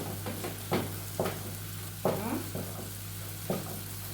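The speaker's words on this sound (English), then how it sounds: "For those who don't know how to cook ugali, this is how it's done." Thick ugali being stirred in a pot, a few dull scraping thuds at irregular intervals against a steady background hum, close and moderately loud with no talk.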